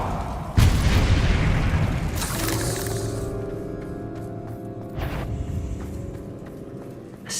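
Confringo and Bombardo spells exploding in Hogwarts Legacy: a loud booming blast, followed by a second burst that rumbles and fades into a lingering tail.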